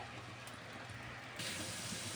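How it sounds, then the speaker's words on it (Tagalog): Potatoes and carrots sizzle in hot oil while being fried for pork kaldereta, a steady close hiss that grows louder and brighter partway through, with no talking. "Prito muna natin yung patatas at saka yung carrots."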